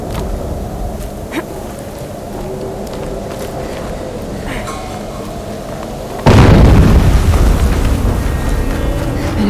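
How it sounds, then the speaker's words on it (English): A loud explosion in Horizon Zero Dawn bursts in at about six seconds, breaking over an earlier low rumble and ambient game noise, and its blast decays through the last few seconds. "An explosion."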